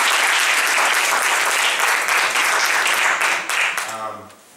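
Loud, dense applause from a church audience, filling the room steadily for about four seconds before tapering off, with a few voices in the crowd as it fades.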